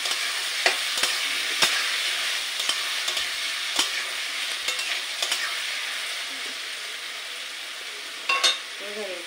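Potatoes fry in a pan with a constant bright hiss of oil, broken by sharp clicks and scrapes of a spatula stirring them, close and steady.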